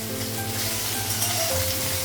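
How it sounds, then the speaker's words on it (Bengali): Green banana and soybean pieces frying in oil in a wok, a steady close sizzle with faint stirring, no talk. "কড়াইয়ে কাঁচা কলা লাগালাম আর একটু সয়াবিনটা লাগিয়েছি।"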